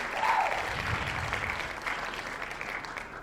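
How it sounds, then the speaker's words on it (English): A small podcast audience claps for a few seconds, a moderate patter of hands with a brief voice at the start. "I would like to think that those claps are for me"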